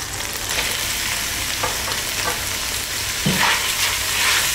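Onions cooking in oil in a home kitchen for a Saudi-style dish, giving a steady close hiss of frying with light stirring scrapes, and no voices over it.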